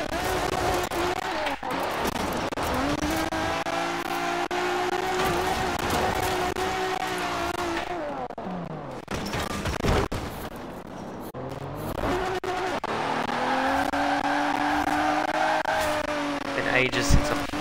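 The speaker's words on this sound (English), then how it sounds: "let's go for a drift in a limo." Limousine drifting sideways in the Forza Horizon 4 racing game, its rough engine droning loudly with long tire squeals sweeping up and down, a brief lull midway before the engine roars back, under occasional talk.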